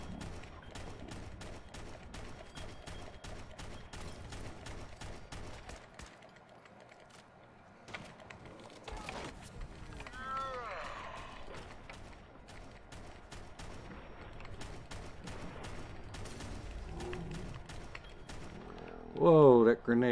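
Gunfire crackles in a firefight against Anglers in Fallout 4, steady shots through the clip with a louder grenade blast near the end, mixed under game sounds.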